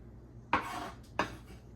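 Knife chopping napa cabbage and romaine lettuce for a salad, two sharp cuts about half a second apart, close and fairly loud over a quiet background.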